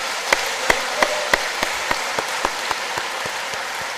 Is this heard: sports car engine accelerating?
no